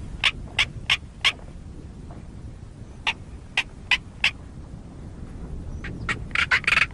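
A male black korhaan calls during an aerial display over Kalahari dunes, a series of harsh, rasping croaks in spaced bursts, then a rapid cluster near the end, over a quiet low background.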